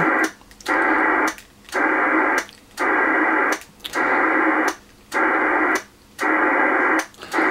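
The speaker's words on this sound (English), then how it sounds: "We can hear atmospheric noise being received" A Kenwood TS-700SP radio on single sideband hisses with steady atmospheric static, cycling between transmit and receive about once a second, each burst broken by brief near-silence.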